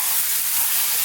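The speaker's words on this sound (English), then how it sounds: "fry this dal just for about, another sort of 4 minutes on a high heat" Red lentil dal (masoor dal) frying over high heat in a pan, giving a steady, close, continuous sizzling hiss with no pauses.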